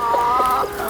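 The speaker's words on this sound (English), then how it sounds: "It's amazing how the chickens just take care of everything." Chickens clucking in a backyard chicken orchard on a June homestead, a steady close flock murmur with soft overlapping clucks and no talk.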